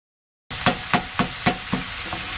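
Thin-sliced beef brisket stir-frying in a pan, giving a steady loud sizzle with a few rhythmic scraping stirs after a brief silence.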